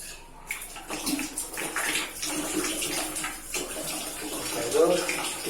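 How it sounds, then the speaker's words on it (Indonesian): Water runs from a turned-on tap into a bathroom basin or tub during a washing task, a steady splashing gush that holds for several seconds at close range, with a person talking softly over it. "Pertama kita nyalakan keran."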